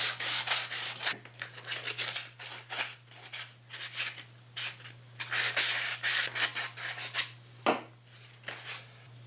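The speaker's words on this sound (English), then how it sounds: "Using 220 grit sandpaper, go over all the connection points to rough up the surface for the adhesive." PVC pipe connection points being roughed up by hand with 220 grit sandpaper, close, repeated scratchy rubbing strokes in irregular bursts, with no talking.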